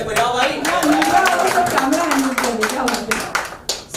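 Scattered clapping from a small audience at a music video launch event, irregular hand claps running under loud talk throughout.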